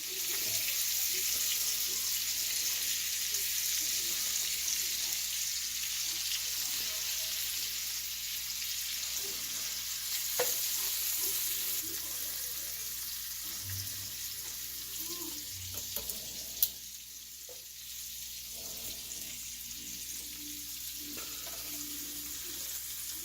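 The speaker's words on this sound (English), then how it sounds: "I basically got the pan deglazed" A pan being deglazed after searing corned beef brisket, a long steady hiss of bubbling liquid with faint occasional scrapes and a sharp clink, close and continuous throughout.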